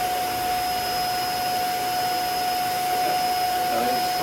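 A portable carpet cleaner's vacuum motor runs in a steady, loud whine with a constant high tone and broadband rushing air, unbroken throughout.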